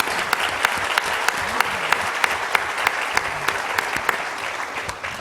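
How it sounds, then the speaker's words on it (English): Steady audience applause at a painting demonstration, dense clapping with a few sharper claps standing out, sustained and fairly loud throughout without fading. "I'd like to give them a round of applause."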